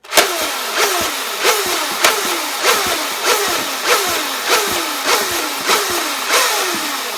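A Nerf Rev-Reaper blaster pumped slowly and hard and fired, repeated cycles of about ten evenly spaced mechanical whooshing strokes with sharp clicks, loud and close, no talking.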